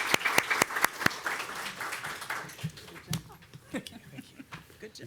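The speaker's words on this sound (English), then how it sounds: "let's give them a round of applause" Scattered applause from a live panel audience, sharp individual claps thinning out and fading after a couple of seconds, with voices talking over the tail end.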